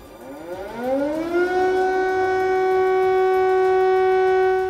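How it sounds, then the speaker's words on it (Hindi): An air raid siren in Kyiv during a Russian missile attack winds up from a low pitch to a loud, steady wail and holds it, sounding alone with no voices. "कीव एयर अलर्ट के सायरन से गूंज रहा था"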